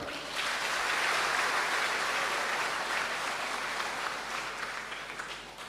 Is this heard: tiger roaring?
no